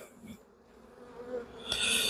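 Honey bees buzz around a hive as a frame is shaken, a low droning hum that swells into a loud, bright burst of agitated buzzing near the end.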